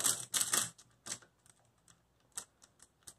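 A Hungarian rings puzzle being shuffled up close, with quick bursts of sharp plastic clicks followed by sparser, softer ticks and rattles as the rings are turned.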